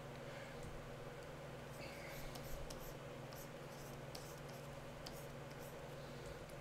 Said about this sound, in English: I'm going to really scribble this.